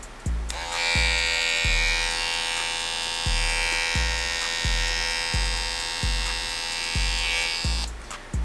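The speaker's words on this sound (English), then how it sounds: "I'm gonna take the clipper, the trimmer blade cover off, and we're gonna give y'all a sound test real quick" An Andis GTX Slimline hair trimmer with its blade cover removed runs in a steady, loud, close electric buzz with a mains-like hum that stays constant for several seconds before switching off.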